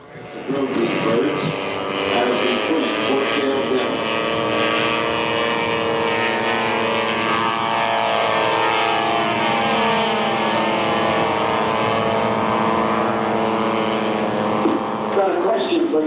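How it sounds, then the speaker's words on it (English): Steady droning engine of a Lockheed P-38 Lightning twin-engine single-seat fighter in flight, a sustained loud tone with layered harmonics holding for several seconds before fading at the end, with no speech. "the first flight of the American Lockheed P-38 Lightning twin-engine single-seat fighter"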